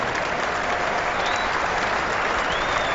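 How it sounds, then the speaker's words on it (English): Steady, loud applause from a Test cricket crowd at England vs India in 2007, a dense wash of clapping filling the ground as a fielder's long chase after the ball is cheered. "Monty gets a huge round of applause"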